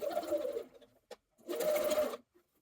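Two short runs of a sewing machine stitching a hem through all thicknesses, close and moderately loud, separated by a brief quiet gap and a small click.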